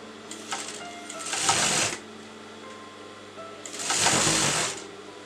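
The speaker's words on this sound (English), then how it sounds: "So now I'm going to sew my golden lace" A sewing machine stitches golden lace onto a kurta in two loud bursts of rapid stitching, separated by a quiet pause with faint handling sounds.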